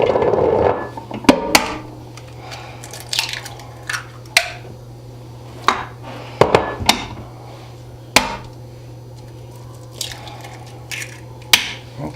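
Four eggs cracked one after another into a mixing bowl for chocolate chip cookie dough, giving sharp, separate taps and cracks scattered over several seconds against a steady low kitchen hum.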